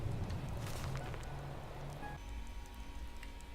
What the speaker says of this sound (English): All right, and it's raining.